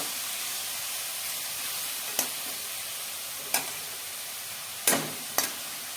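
Mourala fish frying in a pan with cholom leaves, a steady close sizzle and hiss interrupted by four sharp stirring scrapes of a spatula.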